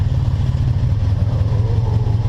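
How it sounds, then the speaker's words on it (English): A cafe racer motorcycle engine idles close up with a low, steady, slightly lumpy throb, its pitch creeping upward a little as the idle revs itself up while warming. "the bike is slowly starting to like rev itself up"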